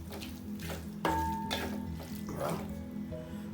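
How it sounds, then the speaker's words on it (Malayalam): Water is poured into a pot of prawn curry with raw mango and roasted coconut paste, giving a short splashing gush over low kitchen background noise. "അതൊരു വെള്ളം ഒഴിച്ച് കൊടുക്കാം അല്ലേ."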